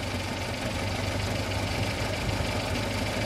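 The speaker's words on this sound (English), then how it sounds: "we can go back to the accelerated idle speed, which is approximately 200 RPM faster than the slow idle." Small engine held at an accelerated fast idle, about 200 RPM above slow idle, just under 800 RPM, while the carburetor is being adjusted. It gives a loud, steady, even drone with a low rumble and no talk over it.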